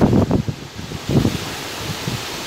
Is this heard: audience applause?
no